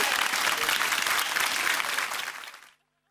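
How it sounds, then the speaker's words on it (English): Studio audience at a TV quiz show gives a steady, rippling round of applause, loud and close, that holds for over two seconds and then cuts off abruptly. "A little bit of rippling applause"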